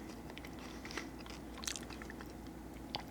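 Buncha Crunch chocolate candy with crisped rice is chewed up close, giving steady soft crunching with a few sharper bites standing out over quiet room tone.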